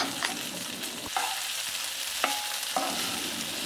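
Okra frying in a pan and being stirred, with a steady sizzle and several distinct scraping stirs at irregular intervals, close and moderately loud.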